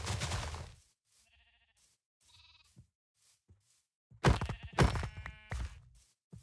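Sheep in a blocky Minecraft-style game world bleat several times, with a couple of faint short calls early and a louder burst of overlapping bleats near the end, close and clear over silence.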